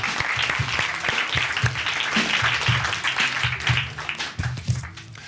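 An audience applauds at a live storytelling show, a dense and sustained wash of clapping at steady loudness, with some louder claps standing out close by.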